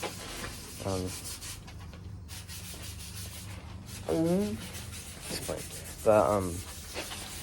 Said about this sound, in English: just gonna sand this down